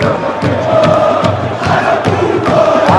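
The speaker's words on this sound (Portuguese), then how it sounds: "A torcida da Argentina canta, faz barulho." A dense stadium crowd of Argentine football fans chants loudly and steadily at a Brazil versus Argentina match, with rhythmic surges and claps running through the massed voices.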